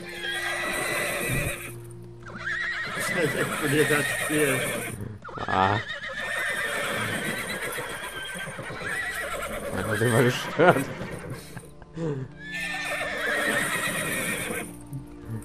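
Horse neighs and clip-clopping hooves from the video game The Elder Scrolls Online, a white horse, mixed with game sounds and repeatedly masked by people talking over them.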